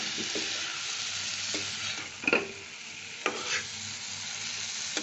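Tomato pieces tossed into a hot frying pan give a steady broadband sizzle, with a few sharp spatula scrapes and clinks standing out over the continuous hiss, close and fairly quiet, with no talking.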